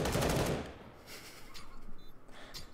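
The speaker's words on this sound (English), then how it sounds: "Shoot into that smoke with every bullet that you have." Rapid bursts of video game gunfire sprayed into a cloud of smoke, loud and dense at the start, then thinning into scattered shots and echoes.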